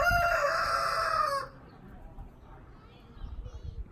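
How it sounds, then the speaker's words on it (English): Rooster crowing nearby, one loud drawn-out cock-a-doodle-doo that cuts off sharply, followed by quiet ambient farmyard noise. "it's a crazy chicken. Never seen a chicken like it."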